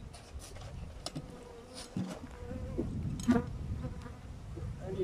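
Honeybees hum steadily at an open long-style hive being inspected, a dense, continuous close-up buzz that swells slightly toward the end.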